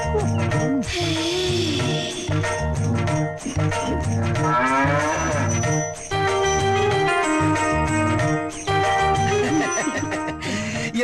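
A sick cow lets out loud, close, drawn-out wavering moos that repeat over about eleven seconds, set against steady sustained background tones, with no talking.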